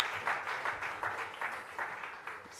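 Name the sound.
audience applause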